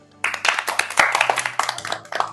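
A small group clapping close by during an informal joke-telling session, with quick, uneven hand claps in a short irregular burst.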